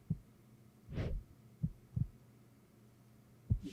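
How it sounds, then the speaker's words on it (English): In the game To The Moon, a slow, muffled heartbeat thumps several times at uneven intervals, low and soft against a quiet hum, with no speech. "we hear a heartbeat"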